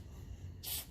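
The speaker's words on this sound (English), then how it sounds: "I'm going to give it a go of this spray" A short, sharp hiss of an aerosol spray on a 1957 Ferguson 35 TVO tractor bursts out after a quiet moment, lasting under half a second.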